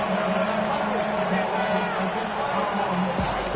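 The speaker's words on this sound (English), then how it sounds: "This crowd into it now as we get to third down." A football stadium crowd roars on third down during a game. The noise is a dense, continuous wash that holds steady at high volume, with faint whoops rising through it.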